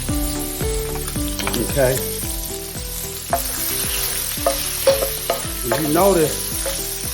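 Bacon fries in a pan with a continuous loud sizzle and crackle, while a person talks briefly over it and utensils occasionally scrape and clink.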